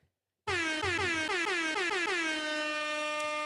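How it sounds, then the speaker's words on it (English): A loud, sustained air horn blast starts after a brief silence and holds steady with a few stuttering pulses, continuing to the end. "Where's my little air horn at?"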